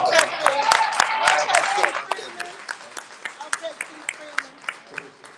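Applause at a Dolton council meeting for Keith Freeman, a crowd's clapping that starts dense and thins into scattered individual claps, with voices murmuring underneath.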